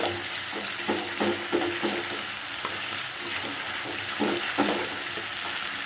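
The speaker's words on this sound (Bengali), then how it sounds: "তো মশলাটাকে ভালো করে কষিয়ে নাও।" Spice masala fries in a pan over medium-low heat for a fish egg cake curry, a continuous sizzle broken by a series of soft rhythmic scrapes as a spoon stirs it.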